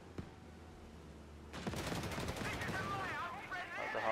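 Gunfire in the Company of Heroes 3 strategy game: after a single early shot, rapid machine-gun bursts and volleys erupt and continue densely, moderately loud, with a voice partly mixed in.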